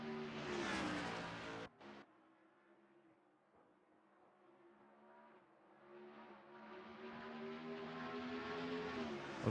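A race car runs a flying lap at Atlanta in a racing video game. The engine drones loud, dips after a sharp cut near the start, then climbs back in a long rising pitch as it accelerates. No one speaks.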